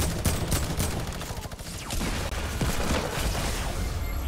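Rapid bursts of gunfire from the video game Fortnite crackle densely through the whole stretch, loud and continuous with sharp transients, with no clear talk over it.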